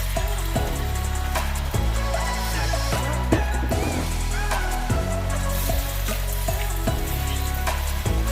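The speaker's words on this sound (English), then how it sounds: "I'm gonna fry up my rice over here, my eggs over here." Rice and eggs frying in a coated pan for chicken and vegetable fried rice, a steady close sizzle with repeated scraping and stirring clicks throughout, no talk.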